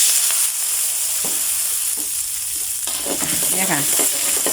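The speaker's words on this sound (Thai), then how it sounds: "ใส่น้ำมันหน่อยเดียวนะคะ เพราะเพื่อสุขภาพนะคะ แล้วก็ใส่น้ำลงไปนะคะ" Fish balls fry in a pan with a little oil and added water, a continuous loud close-up sizzle and hiss with stirring scrapes toward the end.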